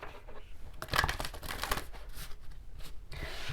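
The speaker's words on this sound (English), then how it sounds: "let's do some shuffling" Quick bursts of shuffling oracle cards from a Starseed Oracle deck, papery riffles and rustles repeating close up over a few seconds, with no talking.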